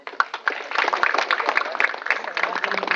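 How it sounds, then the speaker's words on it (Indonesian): Audience applause at a Qur'an recitation competition in Nabire, Papua: a crowd of hands clapping steadily and fairly close, a dense patter of many claps that builds quickly and holds for a few seconds. "Tepuk tangan dulu."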